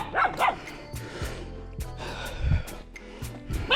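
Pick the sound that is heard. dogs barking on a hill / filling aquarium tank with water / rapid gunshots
dogs barking on a hill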